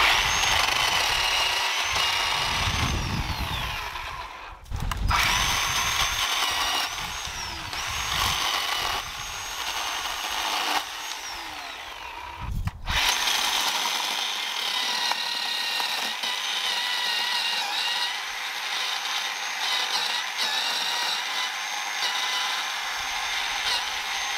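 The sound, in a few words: Bauer chainsaw cutting a tree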